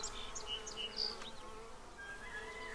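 Steady, low buzzing of many honey bees close by in an observation hive, a continuous hum with a few brief higher chirps and flickers over it, no talking.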